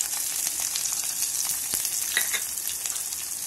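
Finely chopped onion fries in a pan of oil with green chilli and cumin, a steady close sizzle with scattered pops and a few soft stirring scrapes.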